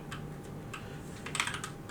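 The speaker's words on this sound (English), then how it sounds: "you just want to type out what I'm typing." Rapid typing on a computer keyboard, a quick irregular patter of close key clicks over a low background hum, with no voices.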